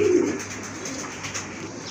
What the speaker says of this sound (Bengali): এক জোড়া শৌখিন কবুতর আছে এখানে, অনেক বড় সাইজের কবুতর